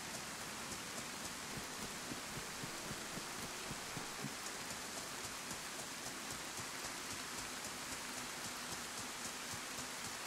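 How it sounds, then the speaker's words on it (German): Steady rain falling in the DayZ video game, a dense, even hiss of drops on surfaces that continues unbroken throughout at a low level, with no talk. "Ja, ich laufe unterm Regen durch, hä?"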